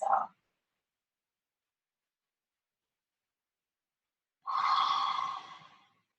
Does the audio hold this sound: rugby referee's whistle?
no